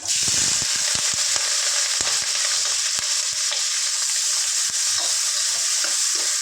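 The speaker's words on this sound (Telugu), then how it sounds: "చక్కగా ఫ్రై చేసుకుందాం" Green chillies and onions frying in hot oil, a loud steady sizzle with scattered stirring clinks throughout, close up and without speech.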